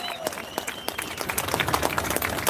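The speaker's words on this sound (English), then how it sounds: "big round of applause for all our speakers today, please" Audience applause after a round of speakers at a rally: a crowd claps steadily, the sound building slightly louder toward the end.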